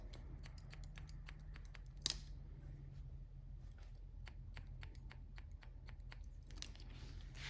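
Scissors point-cut hair in a short, layered edgy style, a quick series of crisp little snips in an even rhythm, close and clear over a low background hum.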